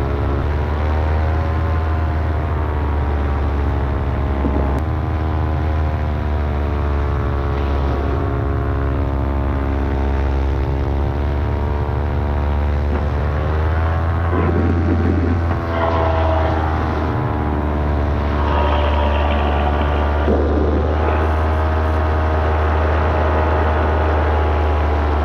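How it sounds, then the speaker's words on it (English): Small single-engine aircraft during takeoff and climb on a foggy flight, a steady loud droning engine and propeller hum with shifting pitch as power changes, continuous throughout with no voices. "That was almost a botched takeoff."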